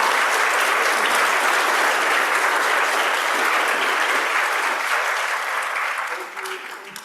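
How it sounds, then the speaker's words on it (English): A conference audience at a caregiving summit applauds a panel discussion, with sustained, dense clapping that holds steady for several seconds and then thins and fades toward the end. "Let's have a round of applause for our panel."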